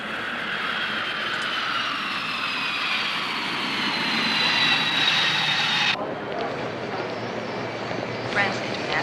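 A passenger jet arriving at an airport makes a loud, steady roar with a high turbine whine. The roar drops abruptly partway through and then continues more softly.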